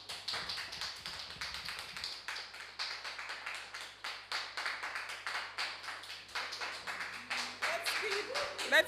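Audience applause after a speech at a debate between government ministries: a smallish crowd claps in quick, rhythmic bursts of distinct hand claps, steady and fairly close, with a faint low hum underneath.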